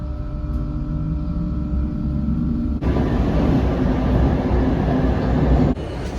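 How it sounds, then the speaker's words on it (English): A train travelling towards Paris hums and rumbles steadily from inside the carriage, with a sudden shift to louder, broader rushing noise partway through, then a return to a quieter drone. "So I just got on the train towards Paris."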